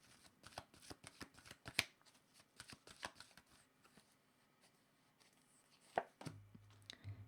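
Tarot cards being shuffled and handled close up: a run of crisp riffling slaps and taps, irregular bursts with quieter pauses, no talk.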